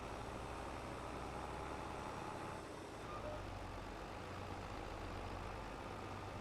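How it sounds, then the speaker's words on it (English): Tractor engine in Farming Simulator 22 on the Silverrun Forest map idling at a low, even rumble, steady and quiet throughout with a slight shift in tone midway and no voices. "That's why this tractor is being so slow."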